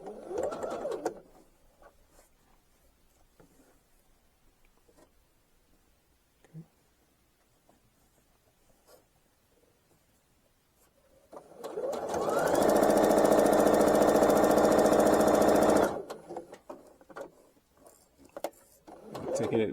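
Sewing machine stitching a quarter-inch seam along already finished edges of a garment pattern piece, one steady loud burst of about four seconds after a long quiet stretch, with faint rustling before and after.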